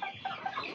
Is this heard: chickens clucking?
yes